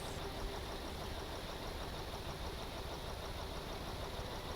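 A vehicle engine idles in a stormy driving game, a steady low rumbling drone with constant broadband noise and no pauses, fairly quiet and unbroken throughout.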